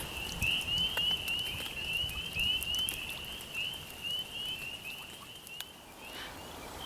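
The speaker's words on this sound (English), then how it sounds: "being surrounded by the peeper chorus and hearing other night sounds" Spring peeper frogs chorus at breeding pools on a misty night, with high shrill peeps repeating rapidly in a dense, continuous band, moderately distant over soft background hiss.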